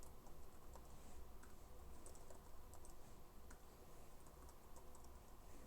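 Code being typed on a computer keyboard, a quiet continuous patter of rapid key clicks, close but faint, with no voices.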